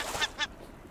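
A bird calls twice in quick succession in the survival video game Raft, with short, faint, honking squawks close together, then quiet.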